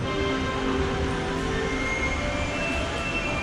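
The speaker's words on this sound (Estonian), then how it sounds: "Veel üks viimane sõit Disney Resort Line'iga, mis näeb välja nagu Mickey Mouse." Inside the Disney Resort Line monorail train, a steady mechanical rumble and hum fill the car with faint tonal whines above, continuous and even throughout with no talking.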